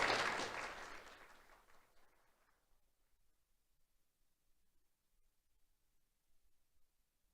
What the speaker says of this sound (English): Let's have a round of applause for Vincenzo Fedoni.